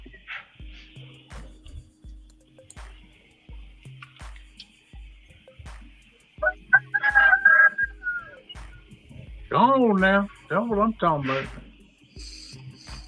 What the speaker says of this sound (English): I just hear a rooster crow.